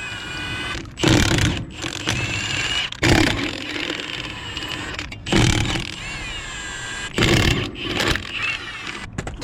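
A pneumatic impact wrench works the wheel nuts off a jacked-up trailer in four loud bursts of rattling hammering, each about a second long, separated by quieter gaps of background noise.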